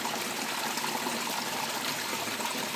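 Water flows and splashes steadily down a soaked hillside, a close, continuous rushing wash with no pauses.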